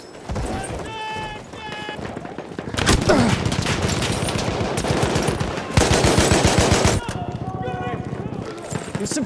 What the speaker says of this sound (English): Machine gun sighted!